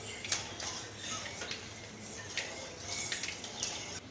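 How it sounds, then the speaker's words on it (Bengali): Black mustard seeds frying in mustard oil in a pan, giving faint, sparse crackles and small ticking pops over a low, steady background hiss. "সর্ষেটাকে একটুখানি 1 মিনিটের মতন ভেজে নিচ্ছি।"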